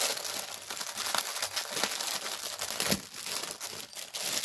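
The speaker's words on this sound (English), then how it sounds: "Get it out of its crinkly bag" A crinkly plastic bag being opened and handled around a DIY digital art kit, a steady loud rustle and crackle close by that lasts the whole time with sharper crinkles here and there, with no voices.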